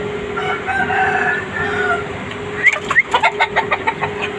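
Chickens on a poultry farm call out close by, a hen's drawn-out cackling giving way to a rapid series of sharp, loud clucks, over a steady background hum.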